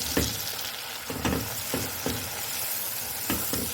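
Crushed ginger-garlic paste sizzles in hot oil with softened onions, a steady, bright frying hiss broken by periodic soft scrapes of stirring.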